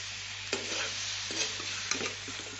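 Wet sizzling under a hiss as thick tomato pickle is stirred in a hot dry pan, with a few scraping spoon strokes close by.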